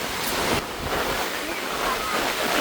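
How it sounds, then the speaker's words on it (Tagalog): Strong wind roars and buffets the microphone steadily, mixed with a broad rush like surf, with faint voices underneath. "Tinatangay po ako ng hangin."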